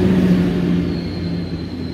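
A Polish compartment passenger train gives a steady low rumble and whir, with a faint high whine drifting in partway through, continuous and fairly loud from start to end.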